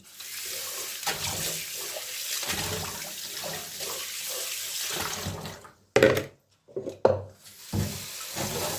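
Produce being rinsed under a running kitchen tap, a steady rush of water with handling splashes, then brief bursts of flow starting and stopping near the end.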